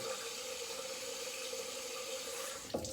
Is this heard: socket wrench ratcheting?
no